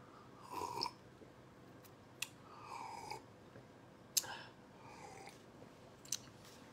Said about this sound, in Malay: Saya tunjuk saya kunyah.